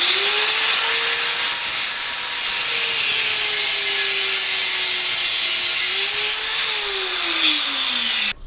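A power tool, likely a grinder, cuts through an old steel file for a scraper, giving a loud, steady high-pitched whine with a wavering motor hum beneath that runs unbroken for about eight seconds, then stops abruptly.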